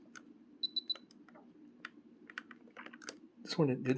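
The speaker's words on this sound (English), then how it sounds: "there's no need to buy them, provided they click. You know, if you can hear that, or you can feel that clicking." Micro switches on a radio control transmitter clicking, a series of small sharp clicks scattered over several seconds, with a few short beeps early on and a burst of speech at the end.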